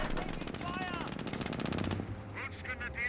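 A jeep's machine gun fires in Company of Heroes, rapid rattling bursts of gunfire in quick succession with a mechanical game-battle din behind it, fairly close, easing into scattered sounds near the end.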